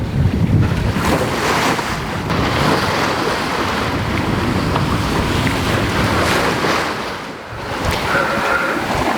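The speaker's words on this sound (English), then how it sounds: "it's been a very gentle day of sailing" Steady rush of wind and water as a sailboat moves through gentle Pacific seas in about 10 knots of wind, broadband hiss of waves against the hull with breezy microphone noise throughout.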